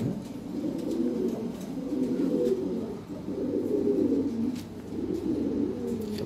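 Lahori pigeons coo steadily in a loft holding many pairs, low soft rolling calls overlapping in waves, fairly close, with faint background noise and no talk.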